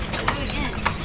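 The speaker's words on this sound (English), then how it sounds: "And I think there's a horse." Horse hooves clip-clopping on a street in St. Augustine, the oldest city in the US, two distinct clops about half a second apart over an outdoor background.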